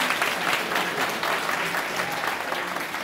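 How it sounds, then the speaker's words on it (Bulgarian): A theatre audience claps steadily for a few seconds, even and moderately loud, with no voices standing out above the applause. "Аплодисменти и за Мила Топалова."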